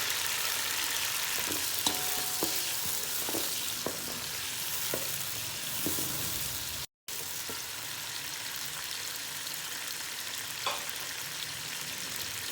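Tomatoes and green chilies fry in hot oil for rajma, a steady close sizzle with occasional light stirring taps, briefly cut off near the middle before resuming.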